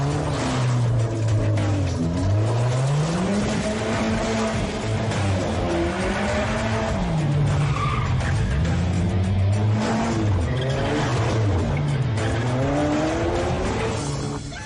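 An animated car swerves in a chase, its tires squealing and skidding in long wavering pitch sweeps over a loud, continuous engine roar, alone and close.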